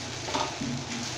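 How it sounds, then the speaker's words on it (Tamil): Leftover idli pieces frying in a pan make a soft, steady sizzle with faint stirring and scraping, close and fairly quiet throughout. "திருப்பி திருப்பி போட்டு நம்ம நல்லா ஃப்ரை பண்ண விடணும்"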